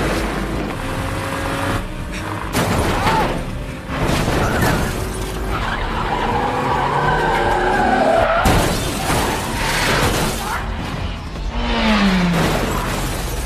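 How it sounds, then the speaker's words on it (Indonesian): A car in a crime film skids and crashes, rolling over repeatedly in a dense residential area: loud tire screeches, heavy thuds and crunching impacts recur across the scene, with glass-like shattering and scraping between hits. "mobil yang dibawa kabur oleh Casey harus mengalami kecelakaan terjungkal berkali-kali"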